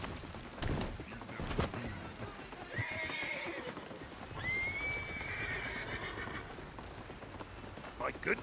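A horse in the Western game Red Dead Redemption 2 whinnies twice, long shrill neighs rising above soft hoof clops and background ambience, with a voice talking faintly.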